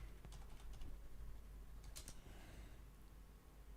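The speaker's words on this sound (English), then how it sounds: "I'm just typing up what we just did, so we have a record of the order of operations" Quiet, scattered keystrokes on a computer keyboard in short bursts with pauses, typed during a Destiny 2 raid session, close but soft against a low background hum.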